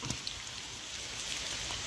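Steady rain falls through a rubber tree plantation, a dense, even hiss of drops on leaves and ground, close and continuous with no voices.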